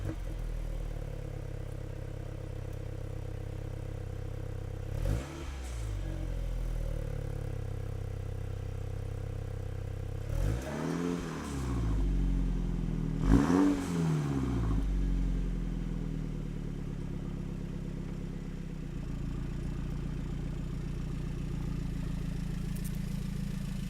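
A convertible car is driven for a long stretch, its engine droning steadily with several rising and falling swells and occasional knocks and clatter, wind and road noise filling the background.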